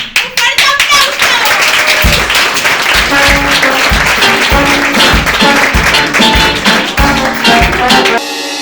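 Loud, sustained audience applause and clapping welcoming a comedian onstage at a stand-up comedy show, dense continuous claps for about eight seconds, with a few cheers and some rhythmic clapping emerging, then cutting off abruptly.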